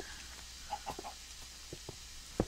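Minecraft chickens cluck in a video game, several short soft clucks scattered across a quiet background, ending with one sharper, louder cluck.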